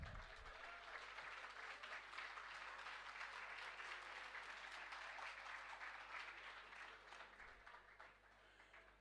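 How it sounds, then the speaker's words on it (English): Audience applause at a pre-placement training session after a guest is presented with a memento, dense steady clapping from a large crowd lasting throughout and fading slightly at the end. "A huge round of applause from everyone."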